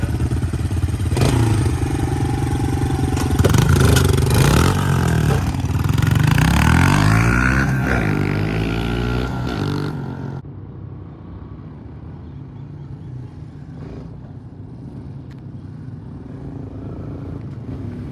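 A Honda Fat Cat TR200 motorcycle engine revs hard and close, its pitch climbing and falling in repeated throttle blips, then drops to a quieter, steadier idle for the last several seconds.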